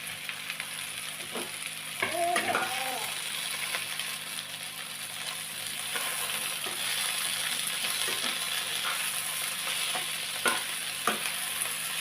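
Chopped tomato pieces sizzling in oil alongside fried ginger, a steady frying hiss with a burst of stirring clatter early on and a few light scrapes of a spoon against the pan, no one speaking.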